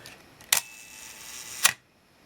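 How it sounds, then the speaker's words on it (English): Two sharp mechanical clicks about a second apart from a Minolta SR-1s film camera shutter on bulb setting, opening and then releasing, close and crisp against quiet room noise. "the shutter stays open as long as the button is held down, and then it releases"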